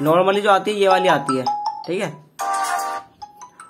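The default ringtone of a Redmi Note 10 phone plays in short melodic chiming phrases, broken up by someone talking between and over the tones.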